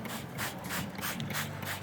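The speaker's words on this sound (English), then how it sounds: "So I'm gonna spray there." Repeated short hissing bursts from a spray bottle of Marine 31 mildew remover, several quick pumps in steady rhythm, close and fairly soft.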